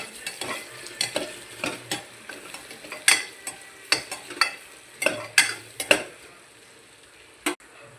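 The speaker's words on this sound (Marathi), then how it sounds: "कापलेल्या मिरच्या उभ्यामध्ये टाकू. थोडी मोहरी टाकू. सगळं मिक्स केलेला मसाला टाकू. त्याला मस्तपैकी हलवून घेऊ." Chillies, mustard seeds and mixed masala tempering in hot oil for khichdi, stirred with a spoon: a steady sizzle with repeated sharp scraping clicks against the pan at an uneven rhythm, close and clear.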